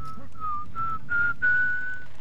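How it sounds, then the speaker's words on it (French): Someone whistles a wobbly, off-key tune in four drawn-out notes, each longer and louder than the last, alone over a steady low hum of game background. "quand on sait pas siffler, on ne siffle pas"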